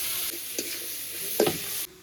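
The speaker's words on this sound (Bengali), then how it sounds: "লাউটা এই যে পেঁয়াজের সঙ্গে একটু ভালো করে একটু নাড়িয়ে চাড়িয়ে নেবো" Chopped bottle gourd sizzles steadily with onions in a kadai, with a few brief scraping stirs cutting through the continuous hiss before it suddenly drops away near the end.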